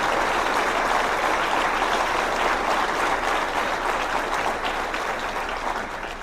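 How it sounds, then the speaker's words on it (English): Sustained audience applause for Sheriff Eugene Bradley at the Augusta mayor's State of the City address, a dense, steady wash of many hands clapping that fades slightly toward the end. "Let's give him a round of applause for his leadership."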